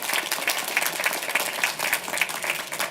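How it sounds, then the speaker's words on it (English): A large crowd applauds steadily at the Queens College 99th commencement ceremony, with dense, continuous clapping that pulses slightly and carries no talk. "a big round of applause for her"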